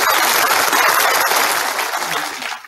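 A studio audience at a 1978 Tyne Tees TV quiz show breaks into loud, sustained applause, a dense wash of clapping that holds steady and tapers off near the end.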